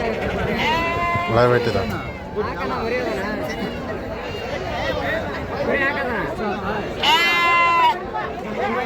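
Sheep bleat repeatedly and loudly at the Amingad sheep market in Karnataka, their wavering cries rising above crowd chatter and someone talking nearby.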